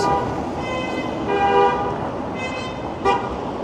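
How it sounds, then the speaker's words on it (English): Several car horns honk on a busy Toronto street along Queen Street West, a series of overlapping toots over steady traffic noise, fairly close. "It's like a honk off."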